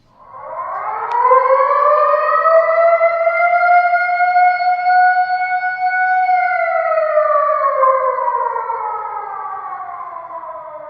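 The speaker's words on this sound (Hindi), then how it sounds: "यहाँ पे हमने बहुत इंपॉर्टेंट इमरजेंसी सायरन साउंड भी दिया है इन केस ऑफ इमरजेंसी" Emergency siren wailing alone, rising quickly to a long steady high tone that holds for several seconds before sliding slowly downward, loud and clear like a civil defense warning.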